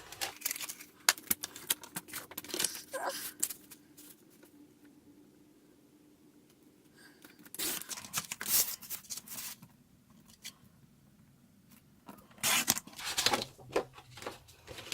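Paper being cut to size for a handmade folio, with crisp bursts of scissor snips and rustling sheets in two clusters separated by a quieter stretch of light handling, close by and with no talk.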